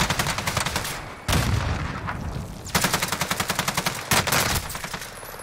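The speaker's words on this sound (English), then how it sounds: "This gunfight is now making me nervous." Loud, close automatic weapon fire rattles in rapid bursts during a video game shooter gunfight, with short gaps between volleys and no talking over it.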